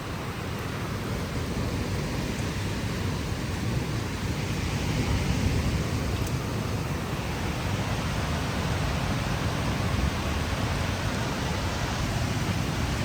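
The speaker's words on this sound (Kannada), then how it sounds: "ಈಗ ಒಟ್ರಾಸಿ ಜೋರು ಮಳೆ" Heavy rain pours steadily around a house during a daytime downpour, a dense, continuous close roar of falling water with no talk over it.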